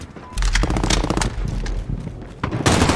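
Rapid automatic assault rifle fire in the Call of Duty: Modern Warfare video game, loud and close, in dense bursts with a short pause before a final burst, with no voices.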